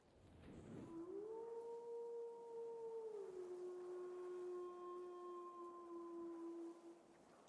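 A video game creature lets out a long, sustained howl as it spawns in, a steady, drawn-out wail holding one pitch for several seconds before a sharp click ends it, heard alone with no talk.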